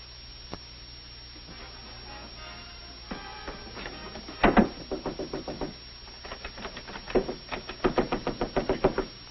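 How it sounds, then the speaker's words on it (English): Knocking on a door in a 1937 romantic comedy film: irregular bursts of rapid raps, some louder and sharper, spread across the scene over a steady low background hum, with no speech. "Stop knocking at that door."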